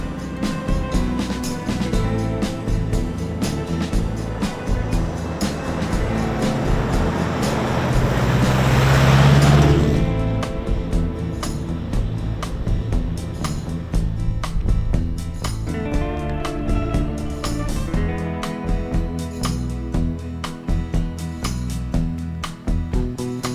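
An overland vehicle grinds up a dry riverbed with a loud, steady engine and road rumble, a heavier roaring swell partway through, and crunching and rattling from the rough ground.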